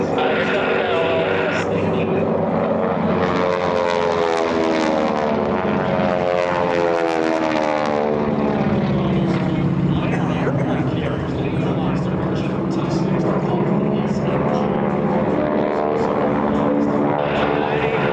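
Titan Aerobatic Team T6 propeller plane performing a barrel roll at an air show, its loud droning engine rising and falling in pitch as it sweeps past, with a commentator talking over it.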